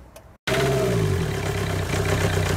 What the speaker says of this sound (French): Démarrez le moteur sans attendre et sans préchauffer les bougies.